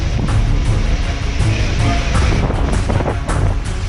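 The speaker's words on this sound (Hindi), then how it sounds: "ओडिशा के भद्रक में भी तूफान से पहले तेज हवाओं के साथ झमाझम बारिश हो रही है।" Strong stormy wind with heavy rain in Bhadrak, Odisha, ahead of a cyclone, roaring loud and steady as it buffets the microphone in constant gusty bursts.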